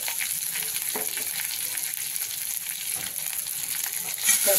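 Jackfruit curry with turmeric and coriander sizzles steadily in a pan while a spoon stirs it, giving soft occasional scrapes over the constant frying hiss.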